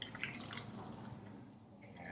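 Tonic water is poured straight into a cup, a faint, steady trickle with light fizzing and dripping that runs throughout without talk.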